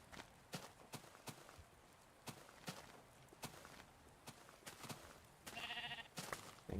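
Footsteps tap steadily through a video game world, then a short sheep bleat rings out near the end among the quiet footfalls.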